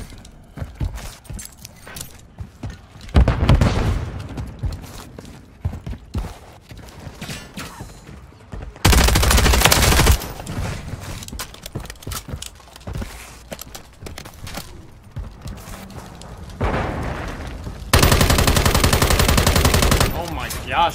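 Automatic weapon fire in Call of Duty: Modern Warfare 3 during a free-for-all match, with several loud rapid bursts spread across the clip between quieter footsteps and game sounds.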